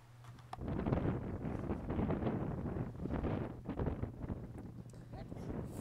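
Wind buffets the microphone while filming outdoors on ice, a dense, steady roar of rumbling gusts that fills the clip.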